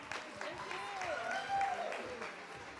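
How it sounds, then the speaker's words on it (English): Audience applause for a live band at a conference event, broadband clapping that fills the clip, with musical or vocal tones and some voices running through it. "please give them a round of applause."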